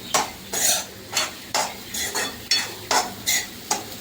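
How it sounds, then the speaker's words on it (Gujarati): Garlic rotla is stirred in a pan over low gas, a rhythmic series of scraping strokes about every half second over a soft sizzle. "આપણે ધીમા ગેસ એને થોડીક વાર હલાવશું"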